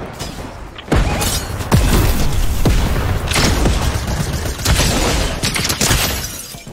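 Gunfire in a video game during a multi-team online match, with loud booming shots and bursts of rapid fire, a sharp sniper-like crack near the start, and dense, continuous combat noise throughout.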